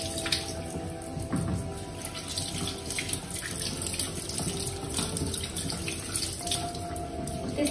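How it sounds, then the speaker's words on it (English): Tap water runs steadily into a sink as sweet potatoes are rinsed underneath, a continuous close splashing rush with small clattering touches, no talk. "And I'm gonna rinse some sweet potato here."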